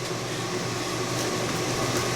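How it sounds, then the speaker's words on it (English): A household air conditioner runs in a kitchen where crock pot green beans and ham are being made, giving a steady, fairly loud broadband hum that stays even and continuous throughout, with no talk over it. "we are going to turn off the air conditioner because it's going to affect... It's a little loud"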